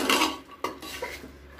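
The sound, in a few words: chickpeas being stirred with spices in a pan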